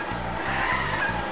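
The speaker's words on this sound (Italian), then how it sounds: "Le ruote girano a vuoto." A toy garbage truck struggling up a steep slope in a children's cartoon, its wheels spinning and skidding: a continuous close tire screech with a pulsing rhythm, loud and alone for just over a second.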